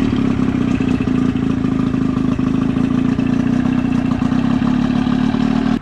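A military outboard motor runs steadily after a first-pull start, a loud close, continuous mid-pitched engine drone with a rattly clatter throughout.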